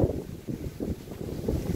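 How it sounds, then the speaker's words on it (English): Strong wind buffets the microphone outdoors, giving a loud, low roar that surges and dips in rapid gusts, with no voices. "See, it's very windy right now."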